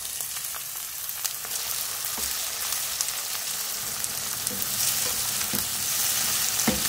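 Chopped medium tomatoes frying in a pan for a dhaba-style chana dal tadka, giving a steady close sizzle and crackle with occasional stirring scrapes throughout, no talking.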